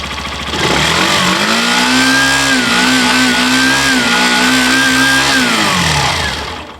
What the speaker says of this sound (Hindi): अब हम ग्लैमर एक्स का साउंड सुन लेते हैं, यानी कि नई वाली का